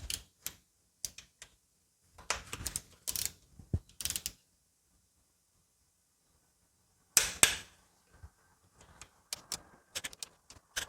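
A torque wrench tightens bolts on a KTM-engined Dominar 400 motorcycle during a flywheel gasket and oil change job: close, sharp bursts of ratcheting clicks and metallic ticks, then a long silence, then more clicking near the end.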